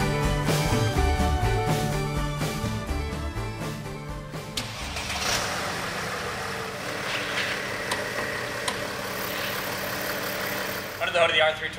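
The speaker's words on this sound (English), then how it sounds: "Under the R320, you're going to find Mercedes-Benz's familiar 3-liter diesel engine." A Mercedes-Benz R320 CDI with a turbocharged 3-liter diesel engine runs with a steady, loud mechanical drone that is heavier at first, then settles to a smoother idle hum, with a brief rise near the end.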